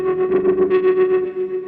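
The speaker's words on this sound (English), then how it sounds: "And I added a wah effect to that." An electric guitar through a Kemper Profiler, bridge pickup with little distortion, with a wah effect plays a sustained, nasal, sweeping tone that swells and fades rhythmically, loud and alone.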